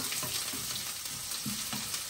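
Spaghetti sauce sizzling and frying in a pan, a loud continuous crackling hiss close by, with occasional stirring noises and no talking.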